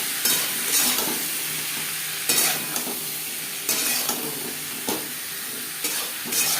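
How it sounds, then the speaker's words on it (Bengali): Potatoes stirred with salt, turmeric and spices in a hot pan for a light fish curry: rhythmic scraping strokes about once a second over a steady soft sizzle, close and clear. "লবণ, হলুদ ও মশলা আলুর সাথে বেশ ভালো করে মিক্স করে দেব।"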